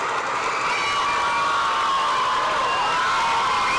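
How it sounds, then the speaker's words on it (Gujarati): A crowd of young children cheers and shouts continuously at a school function, a dense, bright, sustained wash of excited voices from many kids, loud and steady throughout with no pauses. "બાળકોની કિલકારીઓ વધારે સારી લાગે છે"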